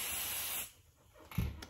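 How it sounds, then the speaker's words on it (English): A can of temporary basting adhesive gives a steady, close spray hiss for over half a second before it stops, followed by a couple of soft handling clunks. "I'm just gonna spray it a little bit"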